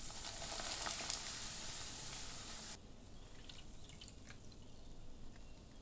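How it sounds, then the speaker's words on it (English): Hot oil sizzles and crackles steadily at close range as poppadoms fry one at a time, the hiss dropping abruptly halfway through to a quieter bubbling with scattered pops. "Once the oil is hot, fry the poppadoms one at a time."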